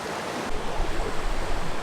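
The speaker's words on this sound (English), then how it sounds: "it might be a little too loud right here with the waterfall." A waterfall in Rocky Mountain National Park rushes in a dense, unbroken roar, close and fairly loud, with gusts of wind mixed into the steady water noise.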